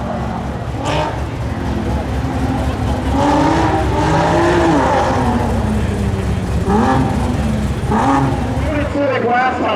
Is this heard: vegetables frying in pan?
no